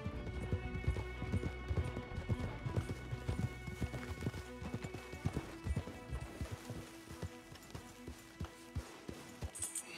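Horses in Red Dead Redemption 2 gallop in a rapid, continuous clip-clop of hooves, fairly close and steady throughout with a neigh among the hoofbeats.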